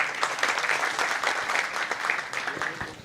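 An audience claps steadily for a few seconds at a talk on entrepreneurship, a dense, even patter of many hands with no pauses.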